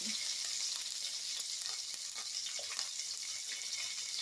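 Onions sizzling and frying in hot oil with tempering seeds while making a chutney, a steady close crackling hiss throughout with light stirring noises.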